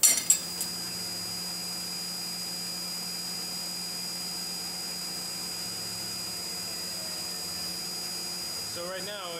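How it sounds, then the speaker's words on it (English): An engraving machine cuts a Viking head design into an aluminum knifemaking fixture, giving a steady, even mechanical drone that holds at one level throughout after a few sharp clicks at the start, with no voices over it. "So right now it's engraving my guy, my Viking head."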